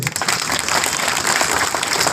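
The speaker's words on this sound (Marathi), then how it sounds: "यांच्यासाठी आधी टाळ्या होऊ द्या" An audience at a state employees' rally claps in sustained applause that fills the whole moment at moderate loudness, with no one speaking over it.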